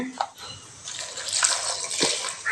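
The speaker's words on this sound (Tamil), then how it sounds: "கொஞ்சமாக தண்ணி விட்டுக்கோங்க" Water poured into a pressure cooker holding chopped ridge gourd and other vegetables for a kadaiyal side dish, a close, steady splashing pour with brief sloshing bursts, no talk over it.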